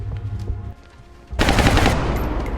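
Gunfire in the video game XCOM: a quieter stretch with a few faint shots, then a sudden loud, sustained burst of rapid automatic fire that fills the rest of the moment.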